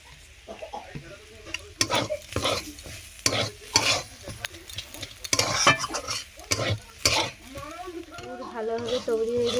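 Vegetable chop filling frying in a pan with cardamom, garam masala and cumin, heard as sizzling under repeated close scraping and stirring strokes, with a voice speaking over the cooking.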